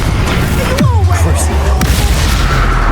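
Confringo fire spell blast in Hogwarts Legacy, a short booming explosion with rumbling low tail amid ongoing combat noise, spoken voices nearby.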